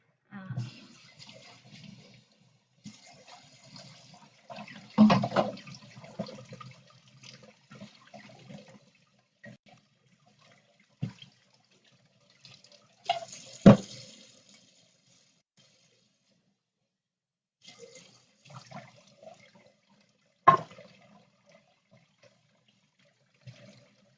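Beans and corn are rinsed in a colander under running tap water, with water splashing and trickling through in several bursts, fairly close and moderate in level, with quiet gaps and some handling noise between pours.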